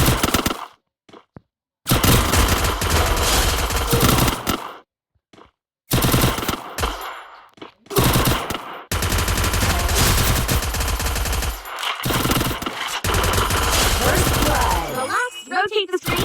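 Rapid automatic gunfire from a mobile shooting video game, loud and dense in long sustained bursts separated by brief silent gaps, with some game effects between volleys.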